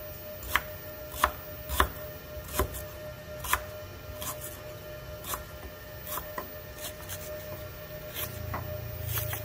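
A knife chops ingredients for a grilled chicken marinade on a cutting board, several sharp, distinct chops spaced about a second apart at first, then softer and quicker cuts over low background noise.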